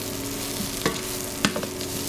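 Brussels sprouts tossed in bacon fat in a pan, giving a continuous close sizzle with a low background hum, broken by two distinct scraping clatters as the sprouts are stirred; no one speaks.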